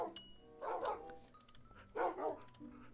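Dogs barking in Minecraft, a few short bursts of yips and barks in two clusters, moderately close, with a steady background hum and no talk.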